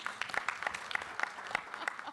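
Audience at the Blue Africa Summit applauds for themselves, a thin and quiet scattering of claps with a loose rhythm, heard faintly from the room.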